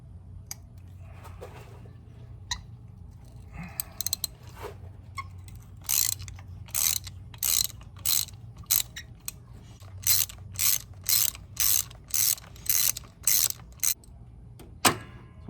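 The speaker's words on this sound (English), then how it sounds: "I'm using a 6-inch extension on a 3/8-inch drive" A 3/8-inch drive ratchet with a 6-inch extension and spark plug socket removing spark plugs from a 2004 Toyota Sienna, giving bursts of quick metallic clicking in a steady back-and-forth rhythm, close and clear over a quiet background with a few faint knocks.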